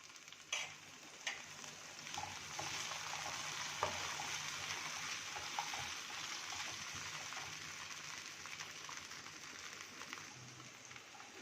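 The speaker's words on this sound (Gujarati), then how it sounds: "એ જ તેલમાં આપણે ટમેટાને ફ્રાય કરી લેશું." Tomatoes fry in hot oil in a pan with a steady, close sizzle that crackles on for several seconds without any talking.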